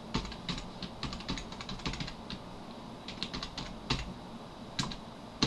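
Date being typed on a computer keyboard, a close run of quick key clicks in uneven bursts with short pauses, clear and alone without talk.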